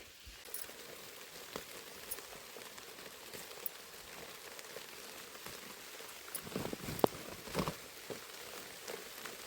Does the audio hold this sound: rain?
yes